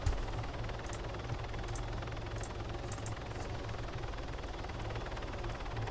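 Helicopter in the Call of Duty Modern Warfare 3 video game, a steady, even rotor and engine drone running throughout at moderate level, with faint high ticks now and then.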